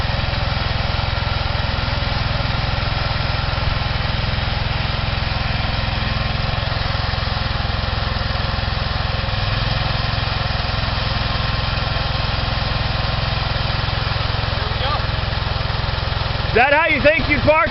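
A garden tractor engine runs steadily at close range with a constant mechanical drone, ending in a few clunks and thumps.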